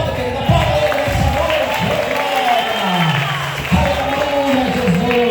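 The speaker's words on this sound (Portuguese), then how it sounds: "Aplauda o Senhor, aplauda, querido, aplauda Ele nessa" A church congregation applauds during an evangelical Portuguese-language service, steady crowd clapping and cheering under a preacher's loud voice talking over it throughout.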